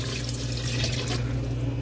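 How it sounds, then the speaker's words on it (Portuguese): Water runs steadily from a tap while being poured into a pot of beef stew after the meat has been sautéed, a continuous close splashing stream with a low hum beneath and no speech. "E agora que eu vou colocar água."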